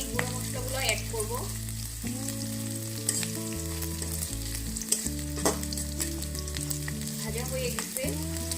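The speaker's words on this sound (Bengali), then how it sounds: "এরপর আমি গুঁড়ো মশলাগুলো অ্যাড করব।" Dried chela fish fries with ground spices in oil, a loud continuous sizzle broken by scraping stirs and a few sharp clinks of the utensil against the pan.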